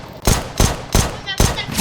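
Four sharp P250 pistol shots from the game CS:GO ring out at a steady, evenly spaced rhythm, each a loud, close crack with a short tail.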